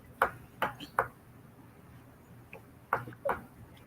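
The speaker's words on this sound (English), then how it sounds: "What's that noise keep beeping for?" A phone gives several short, sharp beeps at irregular intervals, fairly quiet over a low background hum in a room.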